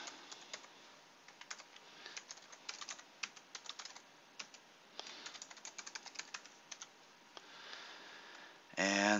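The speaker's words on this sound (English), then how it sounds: "And this one is password protected, so we'll type the password in." Password keystrokes on a computer keyboard, quiet and close, tapped in irregular bursts of clicks across several seconds, with a short louder burst of noise at the very end.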